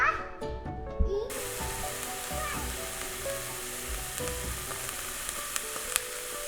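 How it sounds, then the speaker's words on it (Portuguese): Sauce sautéing in olive oil in a pan, a steady close sizzle with a few clinks of utensils, a brief voice and a dog's bark early on. "Eu coloco um pouco de azeite, né, para refogar tudo."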